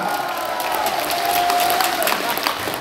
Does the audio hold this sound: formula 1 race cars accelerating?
no